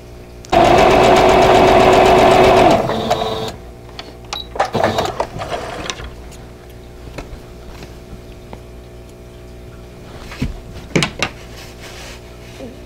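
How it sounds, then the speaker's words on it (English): A sewing machine runs in one steady loud burst of about three seconds while stitching rows of a vintage quilt block, followed by quieter handling clicks and rustles. "Okay, let's sew the other side on."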